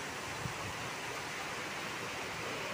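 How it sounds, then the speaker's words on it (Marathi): Heavy rain pours steadily into a home gallery, a dense, unbroken hiss of falling water at moderate distance with no pauses or voices. "पाऊस जाम चालू आहे, पहा, जोरदार पावसाची सुरुवात।"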